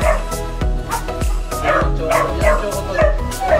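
Beagles barking in a rapid, regular run of sharp, loud, close woofs, roughly two per second, with whiny yips mixed in and no clear talk.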